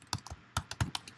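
Computer keyboard keys tapped in a quick irregular burst of about eight clicks, close and clear with no talking.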